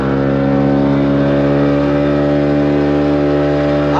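A tour boat engine at the Andaman Islands runs loud and steady with a strong droning hum, holding constant throughout without pause.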